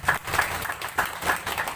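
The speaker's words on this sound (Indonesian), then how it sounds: "ya tepuk tangan untuk kapolri kita" An audience at a Brimob anniversary gathering in Bojonegoro claps for the national police chief, a short, uneven patter of hands with a few distinct louder claps, fairly sparse and close.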